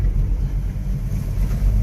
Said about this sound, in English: If you floor it here, this is floored in fourth, so definitely, obviously you don't want to bog the engine down.